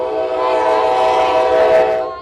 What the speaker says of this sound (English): these protesters waiting for the train to go by